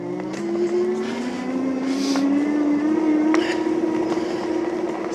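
A Ridstar Q20 fat-tyre electric bike motor whines loudly with a steady rising tone while riding, accompanied by tyre and road noise and brief clicks.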